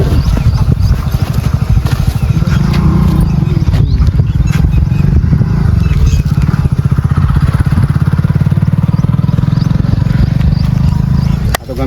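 A motorcycle engine putters and revs up close throughout, a steady loud mechanical drone with rising and falling throttle.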